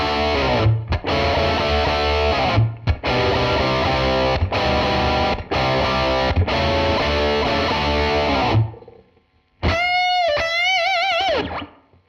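An electric guitar plays through a Fender preset called Royal T, giving thick, driven chords in bursts with short gaps, then a brief pause and a few bright sustained bending notes that fade out.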